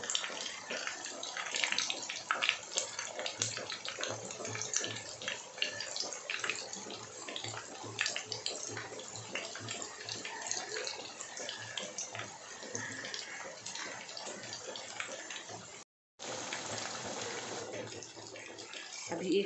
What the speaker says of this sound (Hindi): गैस का फ्लेम को हमको मध्यम आंच पे रखना है और हमें इसे धीरे धीरे फ्राई करना है।